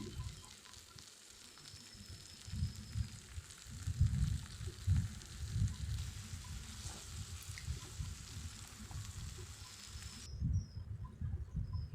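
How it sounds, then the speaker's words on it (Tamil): Ground masala paste sizzling and spluttering in a hot pan while being sautéed for a vegetable gravy, with irregular bursts of frying and stirring noises, close and steady. "அரைச்ச மசாலா விழுதையும் சேர்த்து வதக்கிடலாம்"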